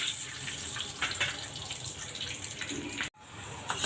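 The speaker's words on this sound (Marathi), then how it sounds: "आता आपण आधी शेंगदाणे तळून घेऊ" Peanuts frying in hot oil for a crisp thin-poha chivda, a steady dense sizzle and crackle that runs unbroken at moderate level, with one brief dropout near the end.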